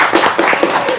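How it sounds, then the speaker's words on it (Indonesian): An audience claps in a quick burst of a few sharp, evenly spaced hand claps, loud and close. "Tepuk tangan"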